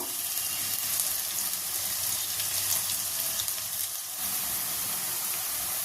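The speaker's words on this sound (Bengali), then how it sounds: "পেঁয়াজটা কিন্তু আমি হালকা ফ্রাই করব।" Onion frying lightly in hot oil for a Bengali fish curry, a steady close sizzle and hiss running without a break throughout.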